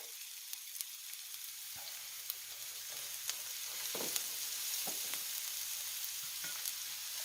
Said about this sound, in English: I'm going to go in and start sauteing